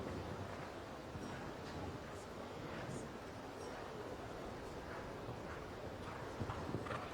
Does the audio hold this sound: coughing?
no